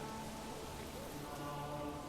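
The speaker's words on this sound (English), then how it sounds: "And the rain reflects my mood perfectly." Rain falls steadily in a medieval village building game, a soft continuous patter under a low game music drone, with no one talking.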